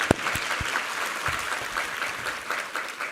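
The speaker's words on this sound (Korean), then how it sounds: "우리 하나님께 감사와 영광의 박수 올려드리겠습니다." A Korean Sunday church service congregation gives a round of applause, many hands clapping steadily at moderate volume, with a few sharp louder claps near the start.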